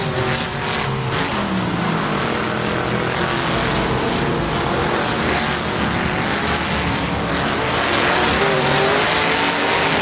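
Trans Am race cars in Assetto Corsa roar together at the start of a race at Riverside, a dense, loud wall of overlapping engine noise that holds steady without letup.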